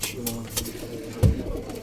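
Young pigeons coo softly nearby in a coop, with a low throaty call standing out briefly amid faint background noise and some speech.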